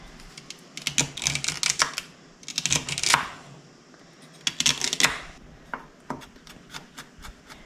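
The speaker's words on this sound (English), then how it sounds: "I'm going to dice it up" A knife dices celery on a cutting board for macaroni salad, giving clusters of quick, crisp chopping taps in bursts with short pauses, close and fairly loud with no talking.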